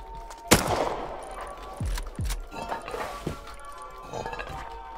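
Short bursts of AK rifle fire in the survival game Rust, a few sharp cracks spaced unevenly with clinks and scuffles between, fairly loud against a busy game background.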